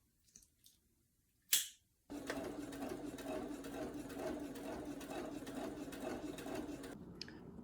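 A sewing machine stitching a French seam on a shirt runs steadily for about five seconds with a fast, even mechanical whir, preceded by a few faint clicks and a brief sharp rustle.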